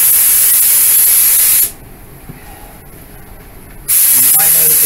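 Loud, close, steady hiss of a spray gun applying a full first coat of paint to a Toyota Camry bumper, cutting out partway for a short gap before the spraying resumes.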